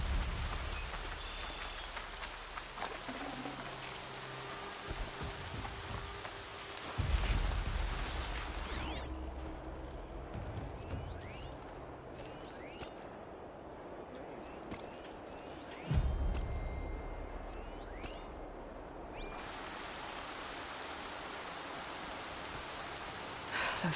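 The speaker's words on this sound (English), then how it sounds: "More rain." Steady rain falls in Horizon Zero Dawn Remastered near a bandit camp, a constant hiss of drops on surfaces with a few low thumps and clanks from the game underneath, no speech.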